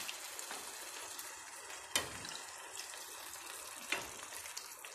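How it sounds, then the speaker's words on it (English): Leftover seitan broth is poured into a simmering vegan Nigerian egusi stew, giving a faint, steady watery trickle and light sizzle with two brief clinks, and no voices. "the remaining broth from the seitan, I'm going to go ahead and add that"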